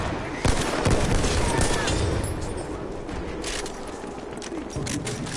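Battlefield 1 gunfire: rapid bursts of close, loud shots rattling over a dense battle din, with faint talk underneath.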